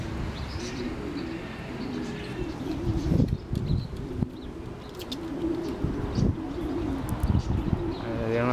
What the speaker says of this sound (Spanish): Están las palomas ya.